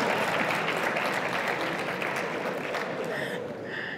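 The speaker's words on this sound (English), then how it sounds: "clap if you want to" Audience applause at a closing keynote address, a steady wash of clapping from a crowd at a moderate distance, fading slightly as a voice begins speaking near the end.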